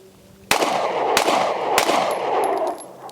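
A non-ported Sig P365 pistol fires three loud, sharp gunshots spaced roughly half a second apart, each with a ringing decay, followed by faint ringing afterward; no talking.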